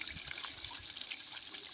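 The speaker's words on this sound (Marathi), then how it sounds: "हे आपल्या ज्या गायच्या मोक्यातून जो पाणी पडतं आहे हे ह्या म्हणजे बारा महिने चालू राहतं" Water pours steadily from a cow-head spout into a temple tank at a pilgrimage site, a continuous splashing trickle at moderate distance, running alone without voices.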